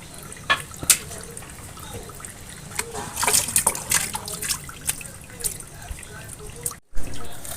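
Water runs and splashes as freshly gathered snail meat, chopped into small pieces, is rinsed, with trickling, irregular splashes and sloshes, and a voice talking intermittently.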